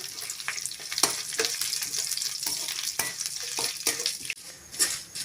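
Steady crackling sizzle of moong dal frying in hot oil, with occasional scrapes and clinks of a spoon stirring the pan.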